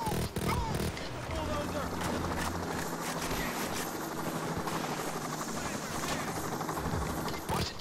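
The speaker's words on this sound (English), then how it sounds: "What the hell is the helicopter doing here?" A helicopter in a video game, its rotor thumping loud and continuous with a pulsing chop, while a person talks over it.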